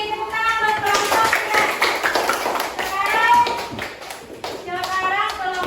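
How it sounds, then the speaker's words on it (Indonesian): Schoolchildren in a classroom clap for a group of classmates, quick rhythmic claps mixed with lively children's voices and chatter close by. "Tepuk tangan buat kelompok."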